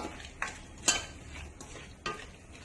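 Spice powders, including coriander powder, are sautéed and stirred in a pan for an egg roast, with a few soft scraping strokes and clinks over a faint sizzle, close and quiet.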